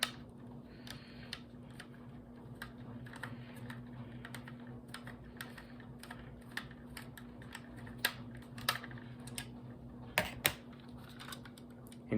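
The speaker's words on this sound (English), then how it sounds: "All right, we're almost done unscrewing this." Small screws are worked loose from a diecast Honda Civic Type R model in a quiet room, giving faint, scattered clicks and ticks with a few sharper taps near the end.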